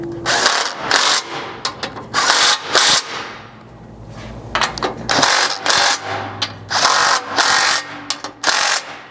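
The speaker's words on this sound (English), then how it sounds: "finish off your install with a 17 mil to tighten those 4 factory bolts along the front edge" A 17 mm ratchet clicks rapidly as it tightens factory bolts on a skid plate system fitted to a 4th-gen Toyota Tacoma. Loud, close bursts of ratcheting repeat with short pauses between them.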